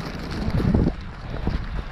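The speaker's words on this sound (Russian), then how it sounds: "Очень сильный ветер." Strong winter wind buffets the microphone outdoors, a continuous loud rumbling roar with gusty surges, close and unbroken throughout.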